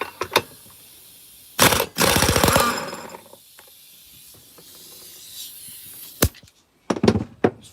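An air impact tool removes the clutch from a Stihl MS660 chainsaw in short, loud rattling bursts, with a hiss of air between and a couple of quick final hits.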